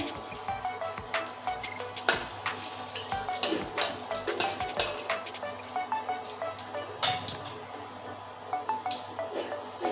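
Two bay leaves and a dried red chilli fry in hot mustard oil, giving a steady, close crackling sizzle with bright popping spatters throughout.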